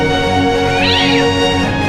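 A cartoon cat gives a single short meow-like cry, rising and falling, over a busy continuous music bed that carries on throughout.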